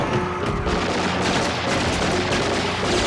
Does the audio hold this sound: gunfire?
yes